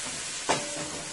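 Garlic, onions and chili pepper sauté in hot oil with a soft, continuous sizzle and one brief louder crackle midway.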